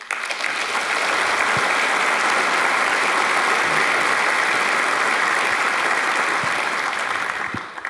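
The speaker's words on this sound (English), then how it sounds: "I think really you deserve a round of applause" Sustained audience applause at a talk on rules for innovators, a dense steady wash of many hands clapping that holds at full level for the whole stretch with no voices on top.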